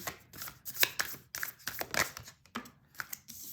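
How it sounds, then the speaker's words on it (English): Tarot cards are shuffled up close in a quiet room, giving a soft, irregular run of papery flicks and riffles with short pauses between bursts. "I'm gonna do a little shuffle in here."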